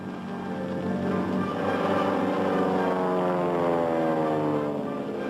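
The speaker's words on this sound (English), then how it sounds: "We sent the plane up to circle around on the far side of the herd, hoping its noise would make them drift" A propeller airplane drones steadily overhead, its engine tone slowly shifting in pitch as it passes, loud and continuous.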